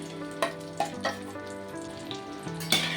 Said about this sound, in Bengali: দেখেছো মাছের ডিমের বড়া করতে গেলে কেমন ফেনা হয়, আর মাঝে মাঝে তেলও ছিটকে আসে।